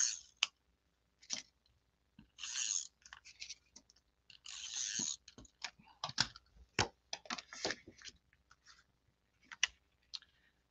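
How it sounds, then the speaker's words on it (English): Tape runner dispensing adhesive onto a greeting card, heard as quiet, close clicks and short sticky rasping pulls scattered in bursts, with small handling taps between them. "I'm using tape runner."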